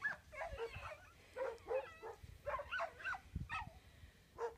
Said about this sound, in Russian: А там собаки, с которыми не гуляют.